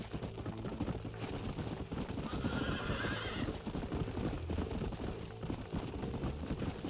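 Horses in Red Dead Redemption whinny and neigh while hooves clip-clop steadily throughout, fairly loud against a busy in-game ambience with no talking.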